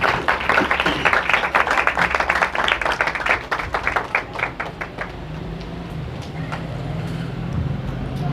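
A church congregation at a Sunday sermon bursts into loud, dense applause that fades away after about five seconds, leaving a low murmur of room noise.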